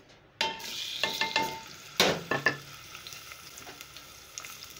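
Onions dropping into hot oil with a sudden burst of sizzling, followed by a few sharp stirring knocks and a continuing steady fry in the pan, close and clear, no voices.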